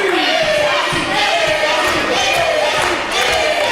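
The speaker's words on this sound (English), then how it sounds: "Crowd coming alive for the champion." A loud arena crowd at a wrestling match roars and cheers continuously for the champion, a dense wall of voices with a commentator talking over it.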